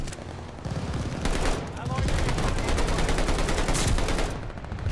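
Rapid bursts of automatic gunfire in the Call of Duty Vanguard video game, loud and dense, rattling almost continuously with brief gaps, while a voice talks over it.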